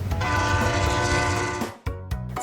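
A train horn blares in a loud, sustained blast that cuts off sharply and is followed by a couple of shorter honks, standing alone without any talk.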